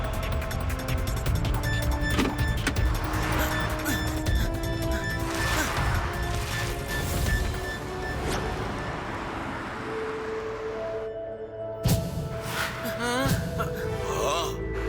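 A vehicle crashes in an animated cartoon, with a loud sustained smash and rumbling mixed with music and effects, then a brief pause before more clattering impacts.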